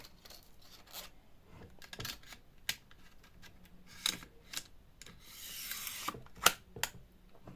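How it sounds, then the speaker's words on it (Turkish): A strip of nails slides and clicks into the front magazine of a cordless stapler-nailer, giving soft close-up rasps, rubs and small clacks with a brief louder scraping near the end. "Bu şekilde çiviyi takıyorsunuz ön cepheye."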